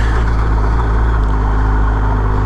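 A BMW adventure motorcycle engine drones steadily while it rides in second gear over gravel, loud and close, with a constant low rumble that does not let up.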